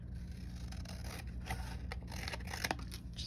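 Material is cut down to size by hand, probably with scissors, giving close, quiet snips and scraping crackles over a low background hum, with no talking.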